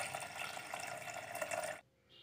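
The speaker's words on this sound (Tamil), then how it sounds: "ஜவ்வரிசியை சேர்த்ததுக்கப்புறமா இதில் 2 கப் அளவுக்கு தண்ணி விட்டுக்கலாம்." Water poured from a cup into a pressure cooker holding sago while making aval payasam, a steady close splashing pour that stops abruptly near the end.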